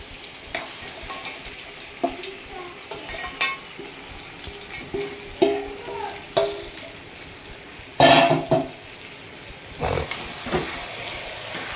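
Sea crabs fry in a cooked-down spice paste, with a steady sizzle beneath repeated close scraping and stirring strokes of a spoon against the pan.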